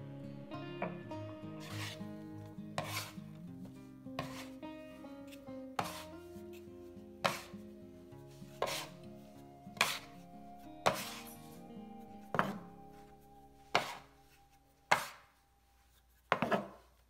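Bread dough being kneaded by hand on a work surface gives regular slapping thumps about once a second, each followed by a ringing decay over soft background music, growing louder toward the end.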